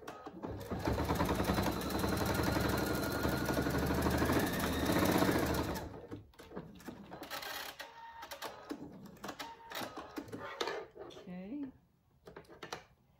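A sewing machine stitching dog collar webbing in a fast, steady mechanical rattle for about six seconds, then stopping, after which a person speaks over sparse handling noises.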